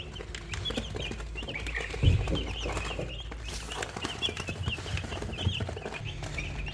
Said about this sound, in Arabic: 44 كتكوت متربيين تحت السرير